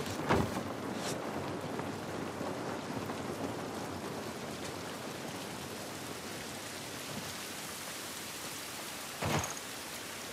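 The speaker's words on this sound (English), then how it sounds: "This rain ain't gonna do us any good." Steady rain pours down outdoors in The Last of Us Part I, a dense even hiss throughout, with a couple of brief louder bursts near the start and end and no talk.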